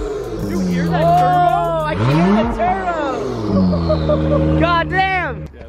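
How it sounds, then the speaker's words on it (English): A wrecked-then-rebuilt Acura NSX with an aftermarket exhaust revs hard, its engine sweeping up and down in repeated loud pulls close by, with people talking over the noise. "this Acura NSX apparently has an exhaust on it"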